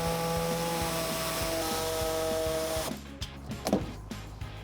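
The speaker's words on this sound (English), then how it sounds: "You can now use your cutting tool of choice to trim the fascia." Trimming a plastic bumper fascia on a 2018-2022 Hyundai Accent with a cutting tool: a steady, close, whirring buzz of a powered cutter runs for about three seconds, then stops, leaving scattered scrapes and knocks.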